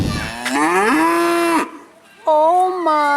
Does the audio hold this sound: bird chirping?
no